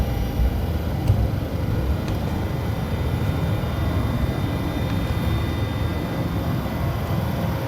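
A Boeing 727 jet rolls down the runway for takeoff in a flight simulator, giving a steady, broad engine roar and rumble that holds its level throughout, with no voices.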